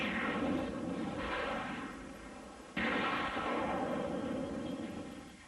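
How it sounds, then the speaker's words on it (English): A slowed-down explosion rumbles as a long, deep roar that fades, then a second heavy boom cuts in abruptly and rolls on before tapering off; no voices. "we don't edit around explosions. We play them back in slow motion"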